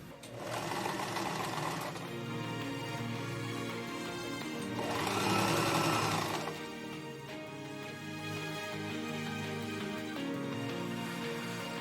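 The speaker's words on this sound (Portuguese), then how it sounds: "E aí você vai passar uma costura aqui com a largura de um pé de máquina." A sewing machine stitches the seam of a gathered skirt, running in a steady close mechanical whir with a brief faster, louder stretch partway through.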